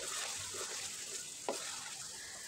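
Chicken with ginger garlic paste fries in a pot for degi-style aloo chicken: a steady close sizzle with soft stirring scrapes and one short knock of a spoon against the pot.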